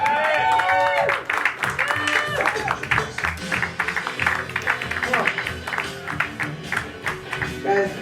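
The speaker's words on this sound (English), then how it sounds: "warm round of applause, Mr. Evan Kessler." Audience at a comedy show at the Hollywood Hotel applauds and cheers loudly as a comedian takes the stage, a dense sustained crowd roar with music and voices mixed in.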